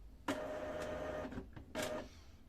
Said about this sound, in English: Now the printer is doing this printhead cleaning